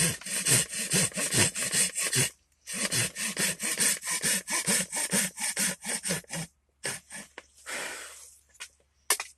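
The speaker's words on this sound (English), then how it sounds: "And I'm really letting the saw blade do the work there." A hand saw cuts a wooden spoon blank in steady, rhythmic back-and-forth strokes, close and fairly loud. There are short pauses between bursts and a few lighter rasping strokes near the end.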